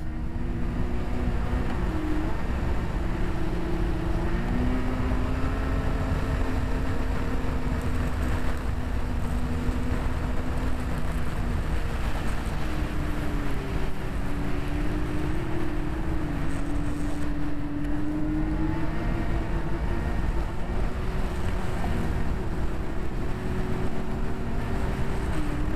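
A snowmobile rides along a snowy rail trail between Lindsay and Haliburton, its engine droning steadily and loudly at close range for the whole stretch, with slight pitch shifts as the speed changes.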